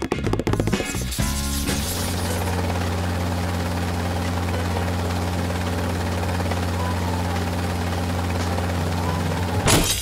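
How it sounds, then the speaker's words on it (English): A radio-controlled toy helicopter gives off a steady, close, loud whirring drone of spinning rotors, with clattering handling noises at the start and a brief burst near the end. "This time, it's a radio-controlled helicopter."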